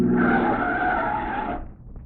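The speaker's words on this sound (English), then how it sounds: "The car stopped in front of us." A car rushes in and skids to a stop, a loud drawn-out tyre screech lasting over a second that cuts off abruptly, followed by quiet low rumble.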